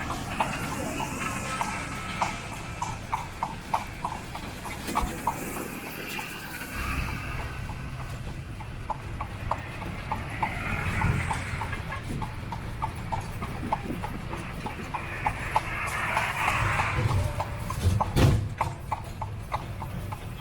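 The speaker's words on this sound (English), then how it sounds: "We're on the horse-drawn buggy" Horse hooves clip-clop in a steady, even rhythm as a horse-drawn buggy rolls through the streets of Varadero, Cuba, with faint wheel and street noise underneath and no talking.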